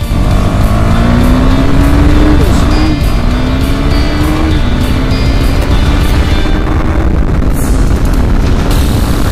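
A loud, steady KTM Duke 390 motorcycle engine drones continuously, its pitch rising in gear-by-gear sweeps as the bike accelerates, with heavy wind rumble throughout.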